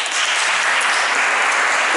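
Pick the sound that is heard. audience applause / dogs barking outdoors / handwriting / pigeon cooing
audience applause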